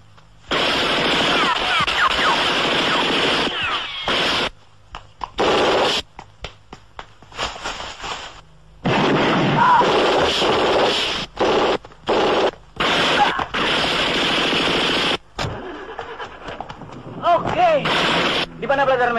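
Sustained machine-gun fire and gunshot bursts from a film shootout, loud and chaotic in repeated stretches broken by brief gaps, with shouted voices and effects mixed in.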